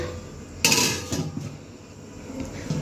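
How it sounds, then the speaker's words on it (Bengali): Metal bowl set down over a rice pot as a makeshift lid, one sharp clang followed by a few smaller metallic knocks and rattles as it settles. "ঢাকনা খুঁজে পাচ্ছি না তাই গামলা দিয়ে রাখছি"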